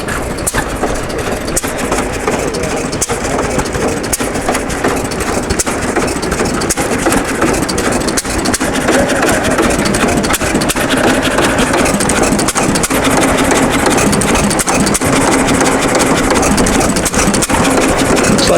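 A 1922 Hercules 3 horsepower hit and miss gas engine runs at a show, its loud, steady chugging broken by regular sharp firing beats and mechanical clatter throughout.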